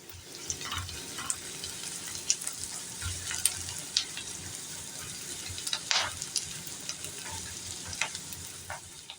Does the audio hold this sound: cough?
no